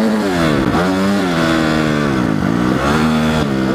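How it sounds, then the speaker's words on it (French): A KTM 125 motorcycle ridden nearby, its engine revving up and down in a steady buzzing drone with repeated rises and dips in pitch, loud and continuous with no talk. "Il a une 125 KTM."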